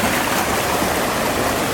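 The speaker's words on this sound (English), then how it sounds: "Now the falls are only 3 feet tall, but they're certainly more impressive when the water is really running." Small three-foot waterfall at Diana's Pool, a loud continuous rushing of water close by, steady and alone with no talking.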